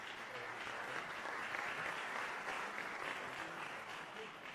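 Audience applause at a CPAC summit panel on human trafficking, a steady wash of clapping from a crowd heard faintly and at a distance, continuous through the short stretch with no speech over it.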